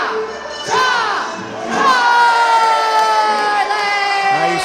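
A wrestling crowd at a CCW show in Port St. Lucie, Florida, rises in loud cheers and high whoops that swell and hold, with an announcer's voice over the roar.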